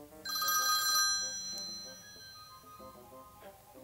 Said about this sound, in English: My phone is ringing from some number from the Isle of the Lost?